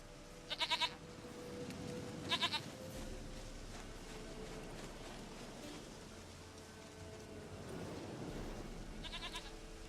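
Goat bleats from The Witcher 3 game, three short nasal bursts near the start, middle and end over a steady ambient outdoor bed with low rumble.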